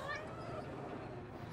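A cat meows softly and faintly, a short tonal call near the start over a quiet, muffled background.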